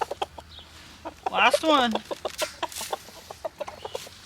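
Hens cluck and squawk nearby in short repeated bursts, with one louder drawn-out squawk in the middle, while a person speaks briefly.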